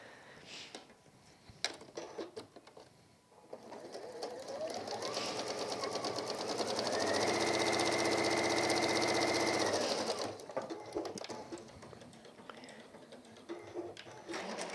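A sewing machine stitches a gardener's kneeling cushion in a rapid, even whirring run that builds to a steady peak and then stops, with quieter handling sounds before and after.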